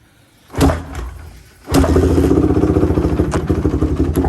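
A Honda TRX450R ATV engine cranks briefly, pauses, then fires up and settles into a loud, close, steady idle with rapid pulsing.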